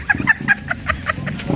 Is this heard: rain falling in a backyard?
no